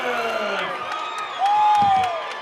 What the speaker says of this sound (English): that is an ovation from a sellout crowd